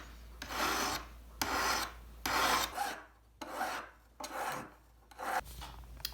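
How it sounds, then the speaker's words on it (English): A metal ring is filed by hand during jewelry repair, giving six rhythmic rasping strokes, each a close, steady scrape followed by a brief pause, with no talk. "very gently, going to be filing and then moving on to different sandpapers"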